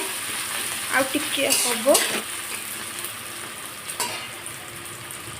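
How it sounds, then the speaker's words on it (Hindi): Onions hit hot oil with spluttering cumin seeds, giving a loud, continuous sizzle with a few scraping stirs and clinks from the pan, while a voice speaks briefly in the middle. "तेल गरम आसला जीरा फुटी आसले से पियाज देदेव"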